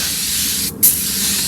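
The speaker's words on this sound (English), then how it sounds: "Just gonna spray it all over the" A continuous hissing spray of cleaner from a spray bottle onto a 1984 Pontiac Fiero dash fills the clip, briefly cutting out and restarting with a sharp spritz.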